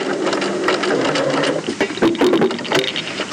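A sewing machine stitches the binding on a strapped cuff placket of a garment, running as a steady, close mechanical whirr with a continuous rhythmic chatter and small handling knocks near the end.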